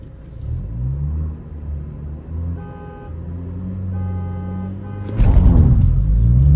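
A VW Virtus GT and a Skoda Laura 1.8 TSI accelerate hard in a drag race, engine drone rising through the gears, with a brief horn toot midway and a loud rumbling burst near the end.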